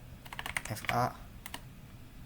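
Keys on a computer keyboard click in a short, uneven run while someone enters a Cisco network configuration, with a brief spoken syllable in the middle.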